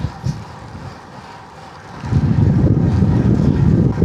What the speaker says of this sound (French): le vent s'est levé, hein, il y en a plus que tout à l'heure.